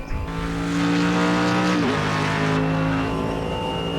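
GT3 race car lapping in a racing video game, a loud continuous engine howl with a quick downshift dip partway through, then rising revs, with faint tyre noise underneath and no talking.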